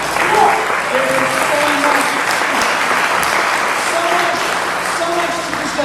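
An audience at a university symposium panel on AI in higher education breaks into loud, sustained applause and cheering that fills the room, with voices audible through the clapping.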